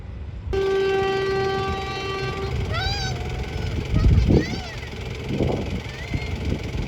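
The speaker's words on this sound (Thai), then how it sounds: "บวน489 เข้าสู่สถานีชุมทางบ้านทุ่งโพแล้วครับ" A freight train pulls into Ban Thung Pho junction station in Thailand, its long horn sounding steady at first, then rising and falling in repeated blasts over the rumble of wagons, with brief talk nearby.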